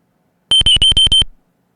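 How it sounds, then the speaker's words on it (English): Wristwatch alarm in the Space Quest II adventure game, a burst of five or six quick, sharp electronic beeps in rapid succession, clean and loud against silence. "A beep emanates from your wristwatch."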